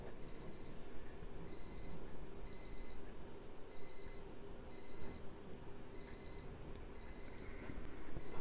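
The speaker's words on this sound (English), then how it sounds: "That was my alarm going off because it was time to take my medicine." A beeping alarm set as a medicine reminder goes off in a quiet room, repeating short paired electronic beeps at a steady interval, faint over low background noise.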